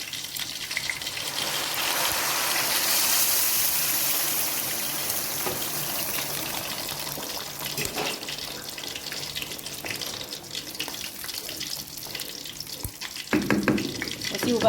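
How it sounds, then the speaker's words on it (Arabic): Soup broth poured from a container onto rice in a cooking pot, a steady close hiss of liquid running for several seconds, then bubbling and clinking toward the end. "ننزل بالشوربه بقى على الرز"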